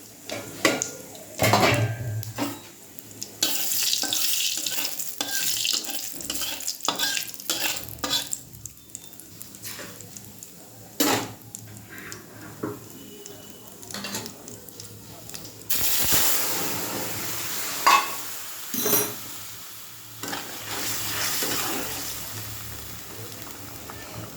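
White cumin seeds tempering in a hot pan, sizzling and stirred with a utensil, with intermittent scraping and clinks of metal against the pan; the sizzle swells in bursts and fades, with brief quiet gaps between.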